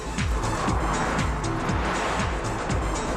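Cars rush at high speed along a German Autobahn in a continuous loud roar of engine and wind, with repeated swelling whooshes as the vehicles speed past.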